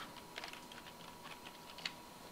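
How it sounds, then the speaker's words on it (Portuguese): Quiet, close keystrokes on a computer keyboard while entering data in an Excel spreadsheet, a quick run of light taps ending in a slightly firmer press of the Enter key. "Vou agora digitar mais uma vez e eu vou confirmar com a tecla Enter"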